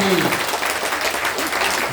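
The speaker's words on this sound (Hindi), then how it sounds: "आप ताली बजा दिए" An audience at a Jan Suraaj padyatra political rally in Bihar claps in a loud, steady burst of applause that lasts the whole moment, with no voices breaking through.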